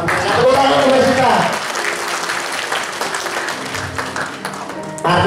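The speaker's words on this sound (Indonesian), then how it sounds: "Tepuk tangan untuk kita." An audience at a corporate culture motivation session applauds, the clapping rising under a speaking voice at first, then continuing as a steady patter of many hands.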